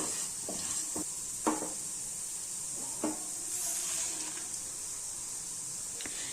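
Coriander seeds and dry red chillies dry-roasting in a pan, a faint steady hiss with a few distinct scraping strokes of a spoon spaced a second or two apart.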